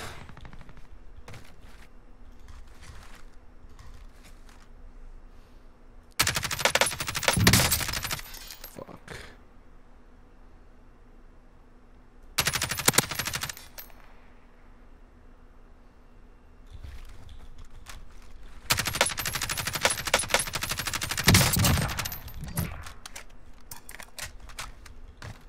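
Kilo LMG machine gun fire in Warzone: three loud, close bursts of rapid automatic gunfire separated by quieter stretches of ambient game noise.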